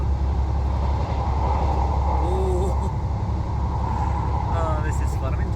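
A train runs through a railway tunnel on a line in North Yorkshire, giving a loud, steady rumble and roar with a faint squeal partway through. Speech is probably present in the background.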